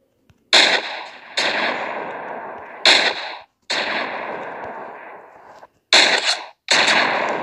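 Pistol shots and exploding fuel barrels in the Garry's Mod video game, heard as six sharp, loud blasts in uneven succession, each with a decaying rumbling tail, with no talking.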